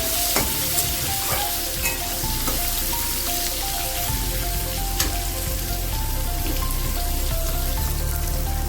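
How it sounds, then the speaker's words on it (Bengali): Potato pieces sizzle in a hot pan with bay leaf and cumin while a Bengali vegetarian chhana dalna is cooked, giving a steady, close, dense frying hiss with small crackles and no talking. "আলুটা একটু ভেজে নেব।"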